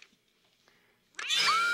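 A cat in a 1985 slasher film lets out one sudden, loud, drawn-out meow after near-silence with faint scattered noises.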